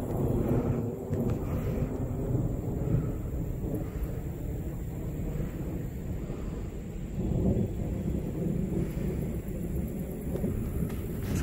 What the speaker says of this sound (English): Y'all can hear the thunder around us.